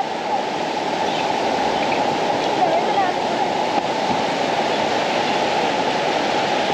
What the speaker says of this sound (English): This is the Hollyford River. It has a blue hue.